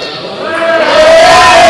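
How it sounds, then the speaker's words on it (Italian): Home fans and the team bench of Masera at a Serie A bocce match cheering loudly and swelling together, a dense roar of voices and shouts that rises through to the end. "sentite la gioia della panchina e dei tifosi del Masera"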